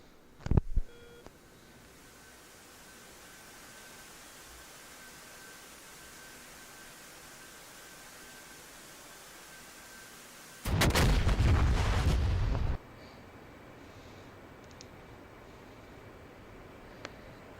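Weapons firing in the DCS combat flight simulator: a sharp short burst near the start, then after a long quiet hum a loud roaring two-second volley of continuous fire, with faint beeps in the cockpit background.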